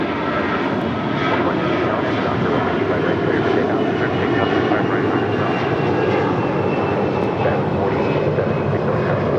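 Airliner engines at LAX, a continuous loud roar from a nearby aircraft holding steady throughout, with no one talking over it.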